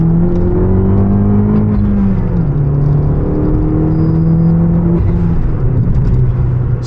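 A Fiat 500 Abarth with a big turbo pulls hard uphill, its engine droning loud and steady with rising pitch that shifts near the midpoint, close and continuous with no talk.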